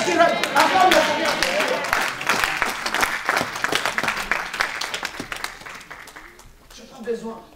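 A church congregation bursts into loud, dense applause that gradually thins into scattered claps, with voices rising briefly near the end.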